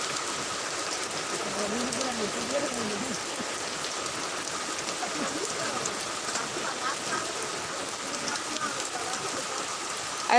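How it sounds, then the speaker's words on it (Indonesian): Heavy tropical rain pours steadily on Ambon, Indonesia, in a dense, continuous hiss, with water splashing on hard surfaces and asphalt, no pauses. "Hujan kota Ambon."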